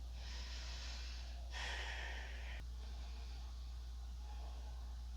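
Deep breathing during a low lunge in a power yoga flow, one long breathy exhale standing out clearly near the middle against a quiet, steady room background, with softer breaths before and after.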